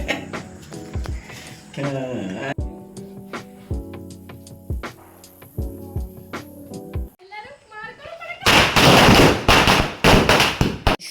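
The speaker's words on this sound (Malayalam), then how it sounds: "നിങ്ങൾ പടക്കം പൊട്ടിച്ചിട്ടുള്ള അവസ്ഥയാണ് നിങ്ങൾ കാണുന്നത്." Vishu firecrackers burst in a dense, loud crackling barrage near the end, following stretches of music and voices.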